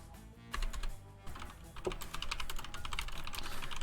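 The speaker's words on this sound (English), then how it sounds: "Excuse my typing." Rapid clattering keystrokes on a computer keyboard near a microphone during a live Echo Arena esports match broadcast, starting after a brief pause and continuing steadily and fairly quietly to the end.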